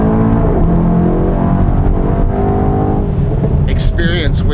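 2018 Mercedes-AMG E63 S Edition 1 4MATIC+ with a 4-liter twin-turbo engine, heard from inside while driving at speed: a loud, steady engine drone with a deep rumble, a voice talking over it, and some brief higher chirps near the end.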